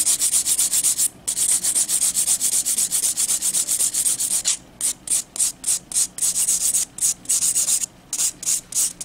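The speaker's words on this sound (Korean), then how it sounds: "나는 더 깎고 싶어. 그러면 더 깎으시면 되고" Terrazzo art piece being sanded and shaped by hand, close continuous abrasive rubbing strokes that break into shorter, rhythmic back-and-forth passes with brief pauses, no talking.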